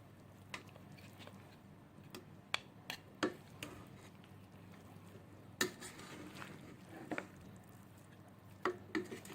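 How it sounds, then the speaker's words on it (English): Kerala-style Malabar chicken biryani slowly stirred from underneath with a wooden spoon and a metal spoon, scattered light clinks and taps against the pot over a quiet, soft scraping background. "I have a wooden spoon and a metal spoon, and we're just gonna mix them, stir them from underneath"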